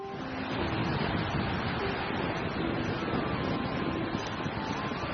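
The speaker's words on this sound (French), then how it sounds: "Ces vagues en sont le vrai témoignage" Waves on Lake Tanganyika wash in a steady broadband roar, continuous and moderately loud with wind noise on the microphone, no voices.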